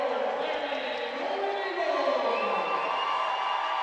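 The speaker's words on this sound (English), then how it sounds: "You can hear this crowd already." A large crowd cheers and shouts in an indoor arena before a college volleyball playoff match between Clarion and Gannon, a loud continuous roar of voices and whoops with no break throughout.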